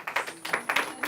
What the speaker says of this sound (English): Clap before I start.